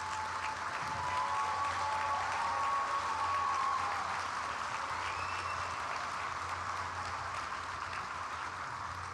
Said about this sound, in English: Sure, you can applaud, why not?